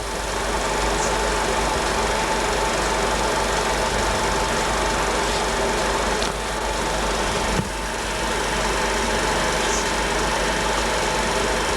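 A small Morini motorcycle engine runs steadily at a constant idle, a continuous broadband mechanical drone with a faint whine, close by and unbroken for the whole stretch.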